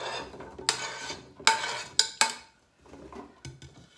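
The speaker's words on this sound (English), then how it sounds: "then add it into the slow cooker" Food tumbles into a slow cooker pot with several sharp clatters and thuds, close by, followed by a brief quiet and a final knock.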